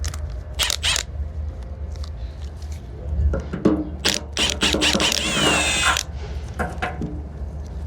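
Ratchet socket wrench working on the fuel tank fittings of an MF 65 tractor, bursts of close mechanical clicking with metallic clatter, partly mixed with someone talking.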